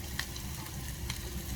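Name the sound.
spaghetti sauce sizzling in a pan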